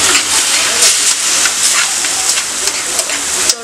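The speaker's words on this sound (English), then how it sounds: "right now I'm in the process of frying the fish" Continuous crackling sizzle of tilapia frying in hot oil, close and fairly loud, with sharp spits and pops over a steady hiss.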